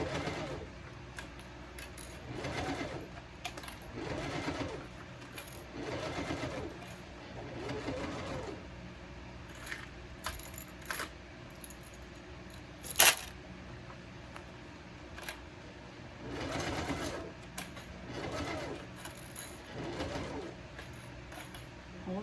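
Bursts of sewing-machine stitching on a blue Calla Boronia bowler bag, working the top stitching and a curved gusset seam with a lightened presser foot; several short runs of needle chatter separated by pauses, with a sharp click near the middle.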